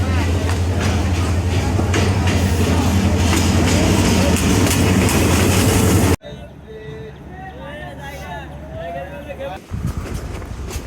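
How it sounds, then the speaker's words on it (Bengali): A train hauled by a 29-series locomotive approaches with a loud, steady low rumble of rolling wagons that cuts off abruptly, leaving quieter ambience with voices and faint chirping. "ট্রেন আসতেছে যেটা 29 সিরিজের লোকোমোটিভ নিয়ে।"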